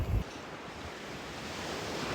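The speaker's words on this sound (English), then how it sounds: "Finishing the ride with a dip in the sea." Ocean surf washing steadily along a Mediterranean shore near Molini, Italy, a broad continuous roar of waves with a brief louder burst at the start and some wind rumble on the microphone.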